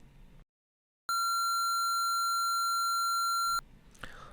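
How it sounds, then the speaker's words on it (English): A square wave tone generated in audio editing software sounds as a steady, loud buzzy tone for about two and a half seconds after a short silence, then cuts off abruptly, followed by quiet room noise and a faint rustle. "We'll generate a regular square wave that we know will contain aliasing distortion and click OK."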